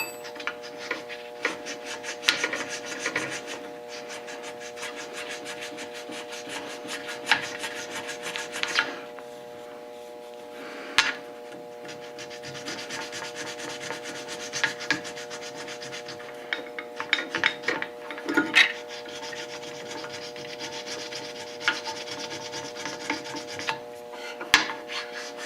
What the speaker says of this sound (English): Probably could stone this down a little bit.